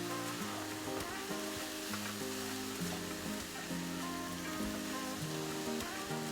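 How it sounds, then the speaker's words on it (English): Food frying in a pan for shepherd's pie gives a steady, dense sizzle that runs unbroken throughout, with a soft melodic tune underneath and no talking. "we're going to fry these for about 5 minutes"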